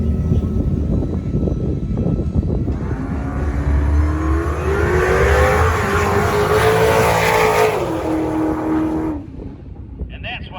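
A 2018 Dodge Demon with 840 horsepower launching down a drag strip, its engine rising in a loud climbing roar for several seconds before abruptly cutting off, heard from trackside over crowd noise.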